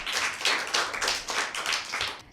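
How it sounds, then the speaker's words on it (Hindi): A group of children claps together at a Christmas program, a brisk, fairly close patter of many hands in loose, overlapping bursts that ends abruptly. "आप सब अपने लिए भरपूर तालियां बजाएं"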